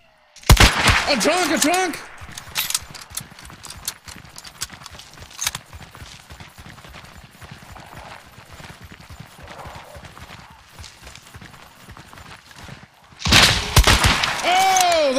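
Video game gunshots fired at a zombie, a steady run of rapid thudding shots across the middle, bracketed by loud shouting voices at the start and end.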